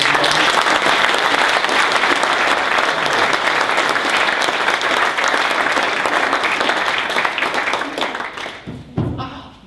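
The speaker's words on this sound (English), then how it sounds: "Give him a round of applause." A conference audience at a Network VEKA AGM gives a sustained round of applause, dense and loud for most of the stretch, then thinning out into a few scattered claps and thuds near the end.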